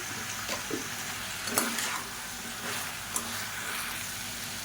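Ingredients for poricha kuzhambu sautéing in hot oil, a steady close sizzle and crackle with occasional light stirring clicks, no voices over it.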